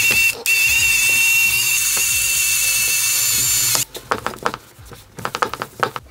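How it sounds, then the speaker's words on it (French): A power tool polishes the engine casing near the water pump of a Yamaha DT 125 motorcycle in a garage, a loud steady high whine for several seconds that then stops and gives way to close clattering and handling noises. "Et donc je voudrais polir toute cette partie."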